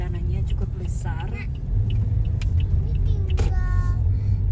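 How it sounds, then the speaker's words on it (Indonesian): Busy city traffic in Jember with many cars and motorbikes makes a steady rumbling hum and passing engines, with people talking over it. "Banyak mobil, banyak motor, jadi agak-agak slow lah ya, meskipun jalanannya cukup besar."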